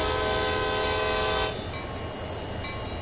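Diesel locomotive in the Train Sim World 2 video game rumbling steadily with a sustained horn blast for the first half, then continuing to drone alone, no voices present.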